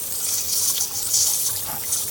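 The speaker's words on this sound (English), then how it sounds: "That is with a garden sprayer, guys" A hand-pumped garden sprayer hisses out foaming degreaser in a steady, fairly soft and wet-sounding spray, with no voices.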